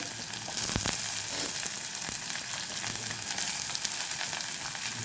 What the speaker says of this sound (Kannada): ಕರಿಬೇವು ಸ್ವಲ್ಪ ಎಣ್ಣೆಯಲ್ಲಿ ಬಾಡಿಸ್ಕೊಳ್ಳುವ ಇದನ್ನು